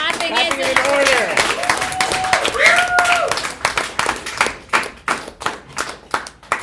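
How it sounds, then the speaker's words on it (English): Middle school delegates at a model UN conference clap after a resolution passes, with cheering and whoops at first, then distinct individual claps that thin out toward the end. "Is clapping in order? Clapping is in order."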